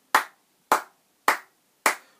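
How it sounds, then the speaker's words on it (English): Hands clapping a steady beat: four crisp, evenly spaced claps close by, each about half a second apart, with silence between them and no voices. "let's have facilitator doing the clapping the beat"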